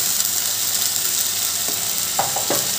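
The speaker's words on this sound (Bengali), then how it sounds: "এগুলো একটু ভালো করে ভাজা ভাজা করে নিতে হবে, যাতে টমেটোর কাঁচা গন্ধটা না থাকে" Tomato paste frying in a pan for a chana chana curry gives a steady, close sizzling hiss, with a few short scraping stirs near the end and no talking.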